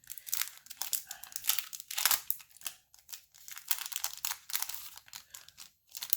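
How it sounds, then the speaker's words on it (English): Crinkly plastic packaging of a tempered glass screen protector kit being torn and opened by hand, close up, with bursts of crumpling and rustling that come in uneven waves with short pauses. "so let's open this up and let's see what this one is about"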